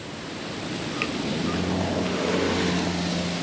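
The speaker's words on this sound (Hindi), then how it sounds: "और इसके नीचे ये पानी बह रहा है।" Water flows beneath a spot in Aarey forest, Mumbai, a steady broad rushing wash with no break, mixed with some wind noise.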